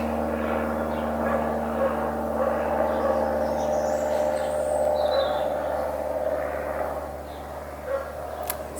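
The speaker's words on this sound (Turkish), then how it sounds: "Yine birileri uçakla geçiyor ya." A light propeller airplane passes overhead on a weekend flight in England, a steady drone with a faint dog barking in the background.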